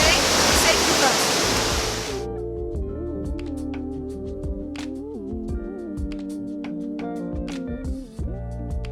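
Aruu Falls in Uganda roars as a dense rush of falling water for about two seconds, then cuts off abruptly into tonal music with a person talking over it.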